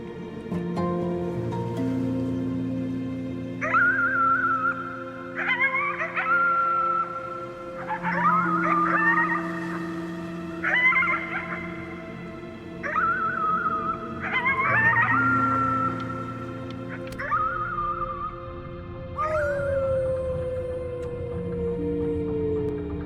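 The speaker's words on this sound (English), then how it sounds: "You howled at the moon, at the top of your lungs." Howling at the moon in the video game Before Your Eyes, with a series of drawn-out, wavering howls rising over a soft, sustained musical backdrop, repeated many times and fading with a final descending howl.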